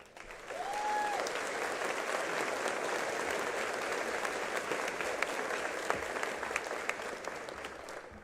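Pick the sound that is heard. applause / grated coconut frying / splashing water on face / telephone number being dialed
applause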